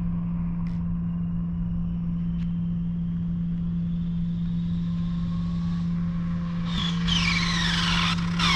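A 1/7-scale radio-controlled GT car on a 3S battery speed run, a thin high whine rising steadily in pitch as it reaches full throttle, over a constant low hum, growing louder and more frantic at the end.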